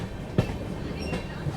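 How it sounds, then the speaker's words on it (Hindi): A Vande Bharat cargo train passes on the railway, a continuous loud rumble with a few sharp clacks of wheels over rail joints, heard close by from a moving train. "और ये देखो क्या दिख गया यार, वंदे भारत कार्गो"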